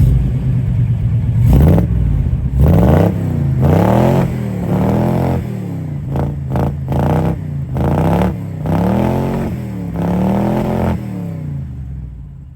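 A 1969 Ford F-250 pickup's V8 idles loudly up close from outside the truck, then revs in a series of rising and falling surges with a deep, throaty rumble between blips.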